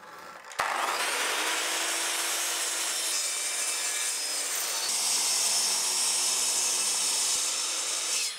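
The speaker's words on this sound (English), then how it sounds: "I trimmed the corners with my miter saw to create a triangular shape" A miter saw bites into wood to trim corners, starting abruptly and then keeping up a loud, continuous, close whining cut until it stops at the end.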